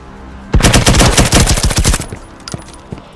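Gunfire in the video game Firewall Zero Hour: a loud, close burst of rapid automatic shots lasting about a second and a half, followed by a few scattered single shots.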